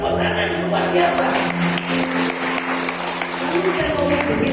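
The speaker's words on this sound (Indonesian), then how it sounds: "beri tepuk tangan luar biasa" An audience at an event in a regent's office hall breaks into sustained applause, dense clapping filling the room throughout while voices carry underneath.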